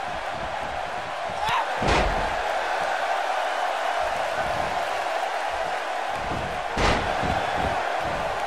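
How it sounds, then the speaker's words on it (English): A heavy body slam thuds onto a wrestling ring mat during a women's elimination tournament match before a Brooklyn crowd, with two sharp impacts about five seconds apart over steady arena crowd noise. "Just a ruthless power bomb right there."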